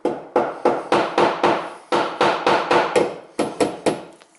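A hammer taps a metal piston in quick, steady bursts of three or four blows while clearing a stuck hole, with brief pauses between groups, close and clear.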